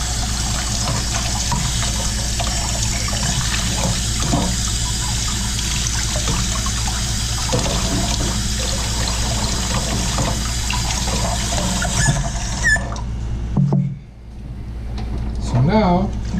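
Tap water runs through a trumpet as it is rinsed clean, a continuous close splashing flow with a voice talking over it. The water stops near the end, leaving a few clinks and handling sounds.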